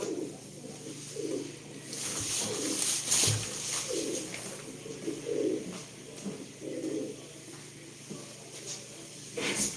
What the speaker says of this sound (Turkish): Bakın beyler kuşlar iyi kuşlar.